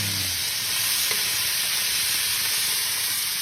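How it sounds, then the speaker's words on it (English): Carrots, onion and celery sizzle loudly in a hot pan for braised short ribs, a dense, continuous hiss close by with a faint tap near the start and no talking. "So we'll get these cooking down."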